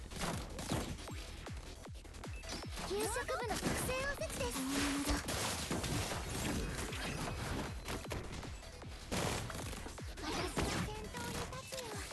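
Mika fires in the Blue Archive mobile game, giving a burst of rapid, punchy gunshots with impact crashes over busy game sounds, while someone talks throughout.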